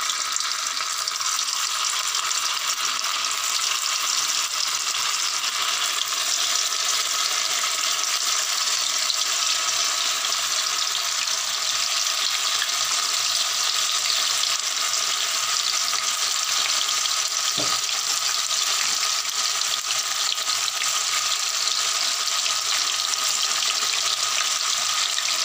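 Cheese frying in hot refined oil for a homemade cheese chilli dish gives a steady, even sizzle and crackle that holds constant and loud for the whole stretch, with no talking.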